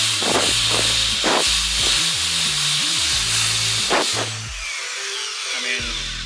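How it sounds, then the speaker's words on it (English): Drill-driven wire brush scrubbing over fresh welds on a steel roof rack, a loud steady broadband grinding hiss with motor whine running throughout and no talking. "I just use a wire brush that attaches to a drill and just kind of go over it."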